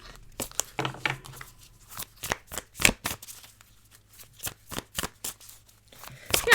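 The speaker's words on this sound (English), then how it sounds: "So let's go ahead and pull some more cards" Tarot cards being shuffled and pulled from the deck, a quick run of crisp riffling flicks and snaps close up, with no talking.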